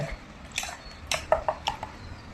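A spoon stirs fruit salad with country sugar in a bowl, giving a few light, irregular clinks and soft wet scrapes, fairly quiet and with no voices.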